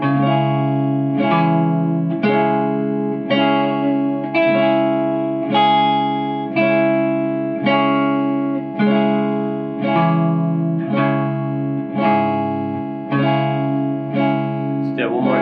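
Electric guitar with effects playing single chord tones over a sustained backing chord, a steady sequence of about a dozen evenly spaced plucked notes ringing close and loud.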